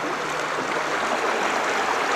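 Water in a stream runs through the Drachenschlucht gorge near Eisenach, a steady, full rushing and burbling that fills the space evenly with no pauses.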